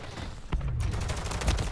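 Battle rifle gunshots in Call of Duty: Modern Warfare, a few sharp reports and bursts at moderate distance, heavy low thumps underneath, with no talk.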